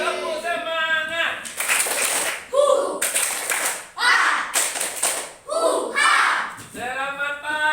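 A school class performs the rhythmic tepuk semangat spirit clap in bursts of patterned group clapping, with children's voices chanting between the clap sequences.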